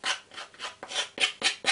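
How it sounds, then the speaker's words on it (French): The edges of a plastic bulb dome kit part are sanded by hand in about seven quick, rhythmic rasping strokes, close and crisp, with no voices. "Je conseille de poncer un petit peu les arêtes"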